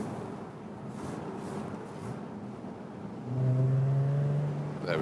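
Jaguar F-Type sports car in race mode, engine droning steadily from inside the cabin, then rising into a louder, smooth acceleration with a clear climbing tone near the end.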